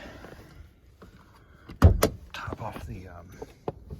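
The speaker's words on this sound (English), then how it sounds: "I like how these doors close." A car door on a used car swings shut with a single solid thump near the middle, followed by a few smaller clicks and rattles while someone talks.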